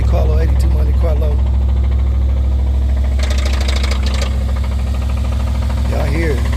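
A 1982 Chevrolet Monte Carlo's engine idles with a loud, low, steady rumble and knocking vibration close by, with a person talking over it.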